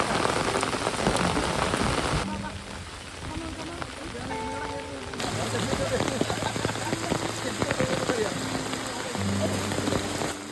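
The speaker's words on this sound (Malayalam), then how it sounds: "സോ തിരിച്ചു വരുന്ന വഴി നല്ല ഹെവി മഴയായിരുന്നു." Heavy rain pours steadily through a Kerala rainforest on a forest trek, a dense, continuous hiss of drops hitting leaves and surfaces that stays loud and close for the whole stretch.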